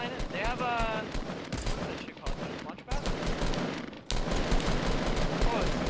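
Rapid bursts of gunfire from a Fortnite shootout, dense overlapping shots with a brief pause midway, loud and continuous under excited voices.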